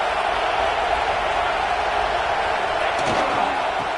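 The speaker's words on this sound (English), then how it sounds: "It's early, but this crowd is fired up. Listen to this noise here." A fired-up stadium crowd in a college football video game roars in a steady, loud, dense wash of noise with no break, while a faint announcer voice is heard under it.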